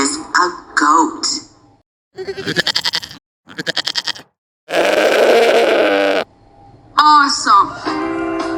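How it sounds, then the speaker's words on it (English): A goat bleats in several short wavering calls, loud and close, separated by gaps and followed by lively music. "This is a goat."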